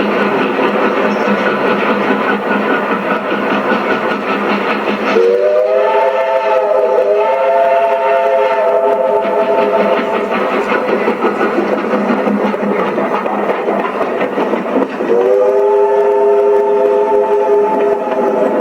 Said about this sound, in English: If Richmond Vale has a mascot, it's this little tank engine, Marjorie.